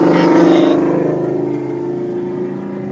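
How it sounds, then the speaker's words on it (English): A Mustang engine revs and then settles into a steady rumbling drone, loud at first before easing slightly. It holds a strong low tone throughout with a faint voice underneath. "Actually, it's a pretty nice little Mustang."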